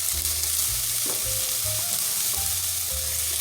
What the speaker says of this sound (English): Now we're going to add in our onion